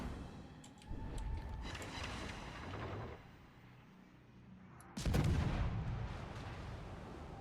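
Naval gunfire from British battleships firing high-explosive shells in a naval combat video game: a sustained rumble of distant heavy booms, with a louder, closer volley erupting near the end.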